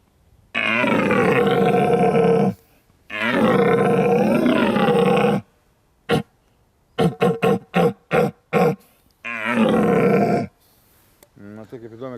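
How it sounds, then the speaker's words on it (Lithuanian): A mature red deer stag roaring in the rut beside his harem: long, deep, bellowing roars, then a run of short grunting coughs, then another roar, loud and near. "Tai brandus elnias su haremu."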